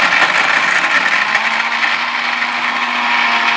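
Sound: Orpat 1200W blender grinding brick into powder

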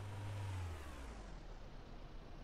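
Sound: vehicle engine running in video game Yosemite Forest Ranger

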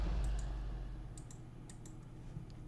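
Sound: clicks of a new computer mouse

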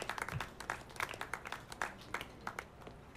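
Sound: crowd applauding in video game RoboCop: Rogue City

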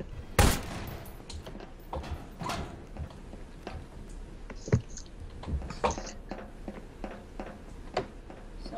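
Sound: shotgun gunfire in the video game Prop Hunt

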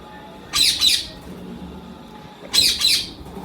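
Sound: yellow ring-necked parakeets squawking

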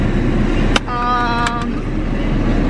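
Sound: riding in Cameron's car

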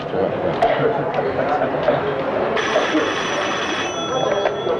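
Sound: telephone ringing

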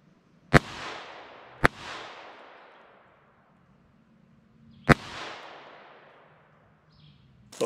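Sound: FN Five-seveN pistol gunshots at robot target

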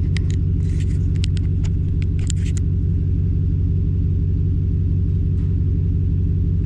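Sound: car trying to drive out of snow without snow chains

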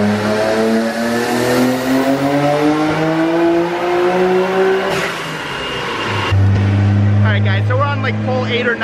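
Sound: Nissan GTR engine revving during a dyno pull

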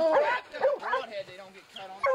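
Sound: hunting dogs barking at a mountain lion

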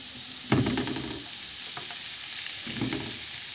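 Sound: chicken frying in a pan

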